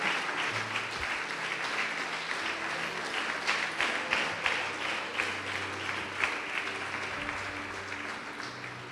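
A church congregation claps continuously for several seconds, a dense wash of hands, while low sustained tones and a voice murmur underneath.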